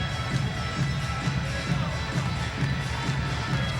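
Steady roar of a crowd cheering in a basketball arena at an NBL Canada game between the Halifax Hurricanes and the London Lightning, a dense, continuous murmur with scattered shouts.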